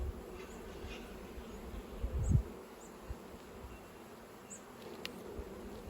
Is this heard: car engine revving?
no